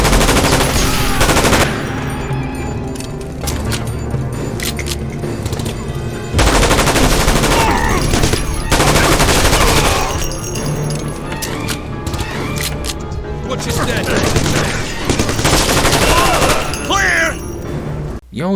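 Automatic fire from the G36C assault rifle in the PC shooter SAS Secure Tomorrow, loud sustained bursts and rapid shots running almost continuously, with short pauses between volleys and a voice speaking over the gunfire.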